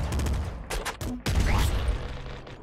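A grenade launcher firing at a sewer grate in the video game Nuclear Throne: a few sharp bursting shots and a booming blast in quick succession, quite close and punchy.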